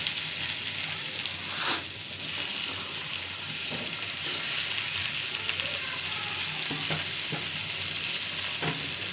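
Mustard oil sizzles steadily in a pan, a dense continuous frying hiss with a few brief clinks and stirring scrapes, close and moderately loud.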